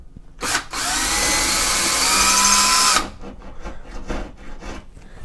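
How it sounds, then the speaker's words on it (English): A power drill bores into a wall while hanging a picture frame or corkboard, running as one loud, steady burst of about two and a half seconds, followed by faint handling noises. "Here's our next mark we're going to drill into."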